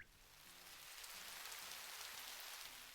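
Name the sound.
rain falling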